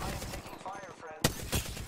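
Video game gunfire, a short loud burst of shots with sharp cracks near the end, under a voice speaking.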